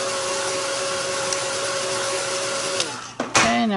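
A hair dryer blows loud and steady at close range to dry paint quickly, a continuous whooshing hum that wavers, dips briefly and then surges near the end.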